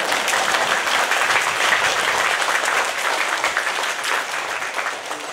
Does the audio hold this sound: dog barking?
no